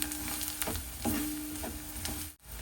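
Spices including hing, turmeric, red chili powder and garam masala sautéing in a pan, a soft continuous sizzle broken by a few light stirring scrapes, with a short dip near the end.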